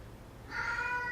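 A single cat meows once, fairly faint and drawn out, over a quiet room background.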